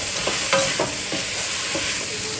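Onions and carrots sauté in a hot pan, a steady close sizzle with several stirring scrapes and clinks from a utensil, and no voices.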